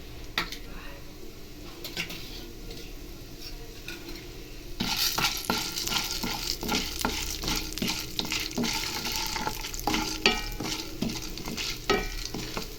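Urad dal drops into a little hot sunflower oil in a pan, bursting into a steady, fairly loud sizzle about a third of the way in, with frequent spoon scrapes and clinks against the pan through the rest.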